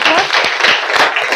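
Classroom applause from students, a brief burst of dense clapping filling the whole moment, fairly loud and close.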